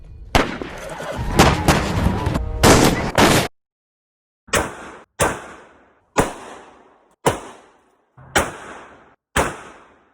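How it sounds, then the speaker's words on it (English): Gunshots from a period-film scene, a dense burst of overlapping shots, are followed by six separate sharp reports from a similar real firearm. Each cracks loudly, then decays quickly in an even, spaced rhythm. "here's a clip from the movie against a clip that I took of myself shooting a similar sort of weapon"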